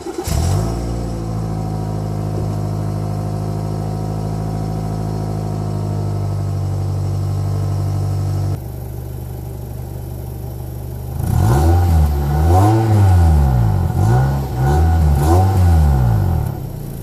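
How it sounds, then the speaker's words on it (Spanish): A 2008 Toyota Corolla XEI's engine cranks and starts, then settles into a steady loud idle before being revved up and down several times, close and alone. "Pongámoslo en marcha. Se pone el pie en el freno y se gira la llave."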